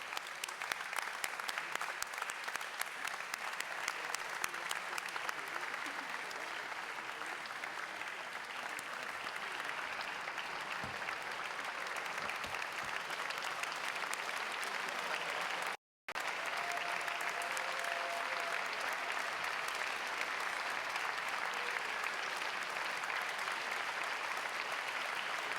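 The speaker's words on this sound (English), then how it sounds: "To all of you, I say thank you for a fantastic work, and I want to join me in an applause." Sustained audience applause at a conference session, a steady wash of clapping hands filling the room for about half a minute with one brief dropout partway through.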